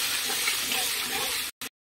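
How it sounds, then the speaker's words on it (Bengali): Cooked matar dal (yellow split peas) poured into a hot pan gives a steady liquid gush and splash that stops abruptly, followed by one short final splash. "এবার ডালটা ঢেলে দিলাম, মটর ডাল।"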